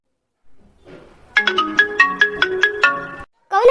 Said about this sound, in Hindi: अरे ये तो हमारे सजनवा का फोन है।